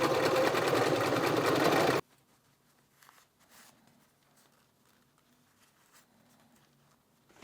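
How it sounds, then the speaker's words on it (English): A sewing machine stitches straight across fabric in a fast, loud, steady whir for about two seconds, then stops, leaving faint rustling and handling noises. "just sewing from one side to the other, leaving some extra in order to gather the fabric nicely."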